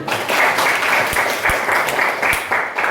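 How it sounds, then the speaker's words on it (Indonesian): A classroom group claps for a student who has just answered, giving steady, moderately loud applause with a few sharper claps standing out over roughly three seconds. "Oke, kita kasih tepuk tangan."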